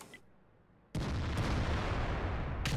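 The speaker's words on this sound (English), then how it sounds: "there's an E-100 over here as well. I recognise the sound of that gun anywhere." Heavy E-100 tank gun firing in World of Tanks, a single deep booming blast that cuts in abruptly and rumbles on with a sustained roar, with a sharp crack near the end.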